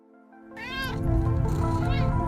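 A cat meows loudly and drawn-out, a single strained caterwaul rising over a steady low background hum.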